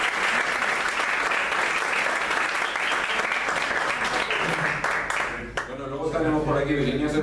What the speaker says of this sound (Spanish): les dieran un aplausito